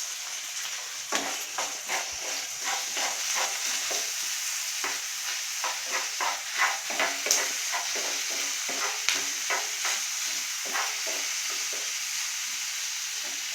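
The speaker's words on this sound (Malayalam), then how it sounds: "ടൊമാറ്റോ സോസ്, ചില്ലി സോസ്, ഇവിടെ തന്നെ 1/2 സ്പൂൺ മുളക് പൊടി." Tomato sauce, chilli sauce and chilli powder are stirred in a hot, sizzling pan, with a constant frying hiss broken by regular scraping spoon strokes, close up and without talk.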